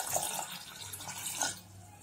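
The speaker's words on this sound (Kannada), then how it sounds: "ಒಂದು ಕುಕ್ಕರ್ ಇಟ್ಬಿಟ್ಟು ಅದಕ್ಕೆ ಒಂದು ಗ್ಲಾಸ್ ನೀರನ್ನ ಹಾಕೊಳ್ತಾ ಇದೀನಿ" A glass of water is poured into a pressure cooker sitting on a gas stove, giving a soft, steady splashing trickle that fades near the end.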